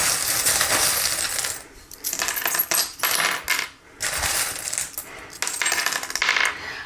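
Small metal divination charms tumbling and clinking as they are cast, a dense, continuous jingling rattle with brief pauses between handfuls, close and without speech.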